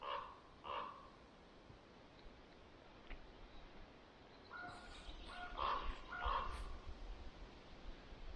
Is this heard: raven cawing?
yes